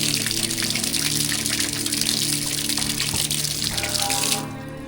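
Tap water runs steadily and loudly for several seconds in an outdoor washing spot in front of a Hindu temple at Harihareshwar, where people rinse their feet before entering, then stops abruptly near the end.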